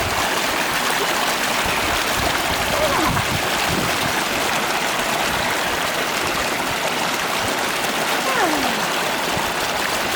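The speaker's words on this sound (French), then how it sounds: "Un petit jacuzzi naturel." Water rushing steadily through a natural rock pool in Corsica in summer, a loud, unbroken hiss and gurgle filling the whole stretch.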